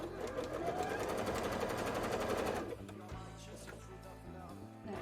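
A sewing machine runs steadily while stitching a bra, a fast continuous mechanical whir with a rhythmic needle clatter that stops partway, followed by quieter handling clicks and a pause.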